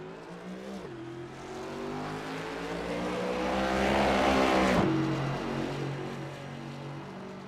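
A race car in a sim racing game rolls out onto a mile-and-a-half speedway for qualifying, its engine rising in a smooth revving climb to a peak and then easing off, loud and alone.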